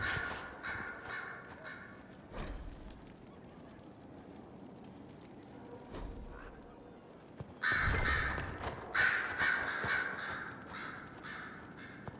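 Crows caw repeatedly around Skyhold in Dragon Age: Inquisition, a series of harsh calls at moderate distance, thickening into a denser chorus toward the end, with no speech.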